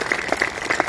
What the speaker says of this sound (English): Give Nerese a big round of applause.